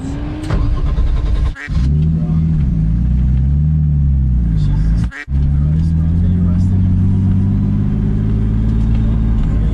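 A car drifts with its engine revving loud and close, a heavy droning rumble whose pitch rises and dips through the slide, broken by two sharp brief cutouts, while voices talk over it.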